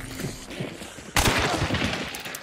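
Gunfire in the game Hunt: Showdown, a sudden loud shot that breaks into a sustained rumbling volley of close shooting, over a busy background of earlier muffled firing.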